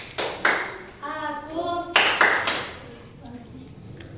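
Tepuk konsentrasi, a rhythmic group clapping chant performed by a school class, comes through as a few sharp clap bursts, each a cluster of hand claps, mixed with children chanting and talking.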